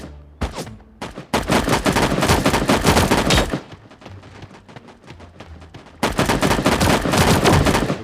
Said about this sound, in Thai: เพื่อนยิงเพื่อนยิงกูตกใจหมดเลยว่ะ